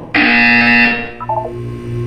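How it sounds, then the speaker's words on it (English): A loud electronic buzzer from the video game Portal 2 on PS3 blares for almost a second, then gives way to quieter lower game tones, with no voices. "When you hear the buzzer, look up at the ceiling."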